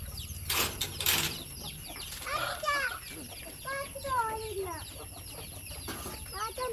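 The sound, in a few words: chickens clucking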